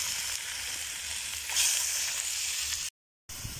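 Camel meat fries in a hot pan with a continuous close sizzle and faint stirring scrapes, broken by a brief silent gap before the sizzling resumes.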